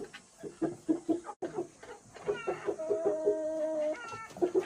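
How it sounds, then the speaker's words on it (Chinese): A rooster in a chicken coop clucks in short, close, repeated bursts, with a brief pause and then a longer drawn-out call, and no talking. "这是公鸡来了。"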